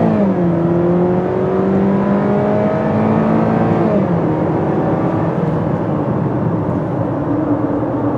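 A 2013 Chevy Malibu 1LT accelerates at full throttle, its engine climbing steadily in pitch, then dropping briefly at a gear change before pulling again, loud and close with no talking.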